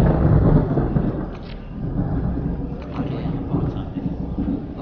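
Thunderstorm in the video game Jurassic Park: Operation Genesis, a steady low rumble of thunder and rain-like wash running continuously under faint talk.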